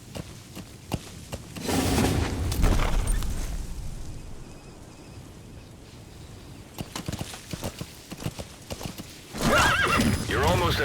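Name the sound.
horse galloping and neighing in Metal Gear Solid V video game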